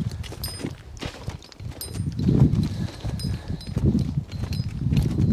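Hooves of a Suffolk Draft colt clip-clop steadily on the ground during a driving lesson, a close, continuous run of footfalls with some low rumble and no talk.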